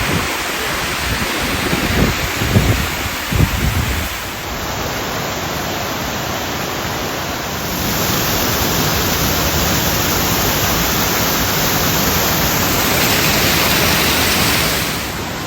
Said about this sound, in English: There's just water flowing everywhere here.